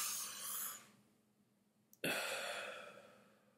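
A person breathes in as deeply as possible and then exhales, a breathy airflow, a short pause, then a long forceful exhale that gradually fades, close and fairly quiet.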